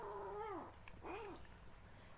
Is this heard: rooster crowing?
no